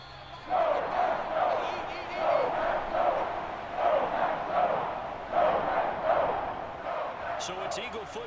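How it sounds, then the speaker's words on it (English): A stadium crowd in the football video game Madden NFL 22 roars ahead of a big third down, swelling in rhythmic waves under a commentator's steady play-by-play. "the crowd getting into it as we come up on a big 3rd down"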